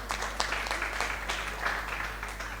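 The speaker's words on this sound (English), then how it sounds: "Somebody clap hands for Jesus." Church congregation clapping hands during a worship service testimony, a steady wash of many overlapping claps forming continuous applause, moderately loud and sustained with no talking over it.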